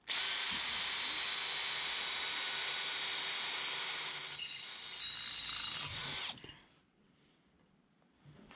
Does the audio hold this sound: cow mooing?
no